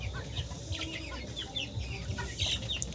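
Chickens cluck steadily throughout inside a farm shed with one side left open, several birds overlapping at close to middle distance with no talking.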